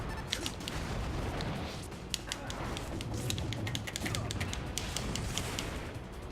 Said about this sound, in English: It was all about the mortar attack.